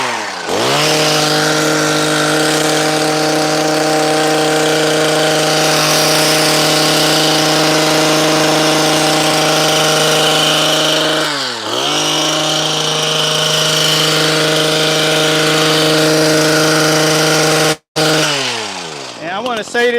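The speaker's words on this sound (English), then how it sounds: "So we're gonna go ahead and trim these hedges real quick." Powered hedge trimmer cutting through hedges outdoors, a loud steady motor whine with strong harmonic tones, briefly dipping around the middle and cutting out near the end before revving again; a voice is faintly present.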